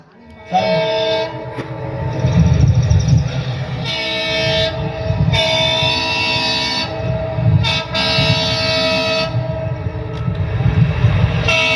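A recorded train-arrival effect played on stage at a tamasha folk theatre show: a loud, sustained train horn blows in several long blasts over rumbling wheels and rail noise, with no talk.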